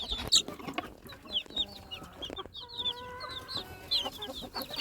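Two-week-old chicks chirp and cluck in short, scattered high calls, with a few steady tonal peeps, fairly close and continuous.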